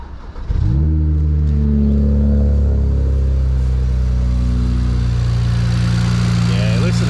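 A BMW E92 335i with a DCT swap, still running cold, starts up and holds a loud, steady engine drone with strong low harmonics, swelling briefly in a rev near the start, close by and alone.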